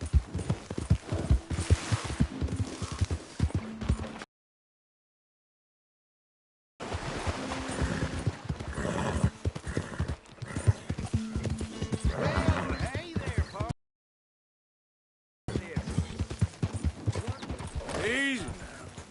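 A horse in Red Dead Redemption 2 clip-clops at a gallop with occasional neighs, a rider's voice urging it on, the hoofbeats cut by two stretches of dead silence.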